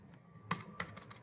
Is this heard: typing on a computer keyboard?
yes